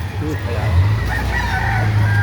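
A rooster crows amid the busy din of a chicken market in Lipa, Batangas, the call rising over steady low crowd noise and traffic rumble while nearby voices murmur throughout.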